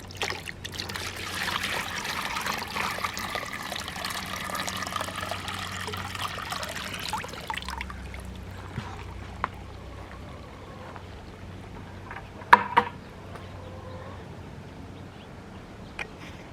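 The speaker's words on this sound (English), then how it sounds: "I'm actually going to water again." Water trickles and splashes through a strawberry tower planter during watering, a steady pouring flow that fades to quieter dribbling about halfway, followed by a few soft knocks near the end.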